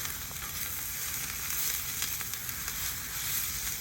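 Fajitas sizzle steadily in a very hot carbon steel biscuit pan, a dense, even crackle of frying close up with no talking.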